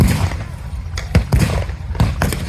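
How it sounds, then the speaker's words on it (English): Sharp blank gunshots and thumps crack out in irregular bursts during a tank battle reenactment at a military vehicle show, loud and close with outdoor rumble beneath. "There's a lot of shooting, but we have flanked them."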